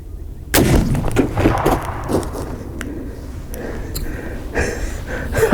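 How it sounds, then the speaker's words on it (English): A Marlin 1895 SBL lever-action rifle fires a sharp shot into a ballistic gel target outdoors, the single loud report followed by a few rapid smaller cracks and ringing decay, with ambient noise and breathing around it. "Let's try that shot again."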